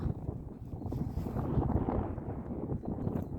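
Wind blowing across a hillside rice field in the late afternoon, a steady rushing and buffeting roar on the microphone with gusts rising and falling throughout.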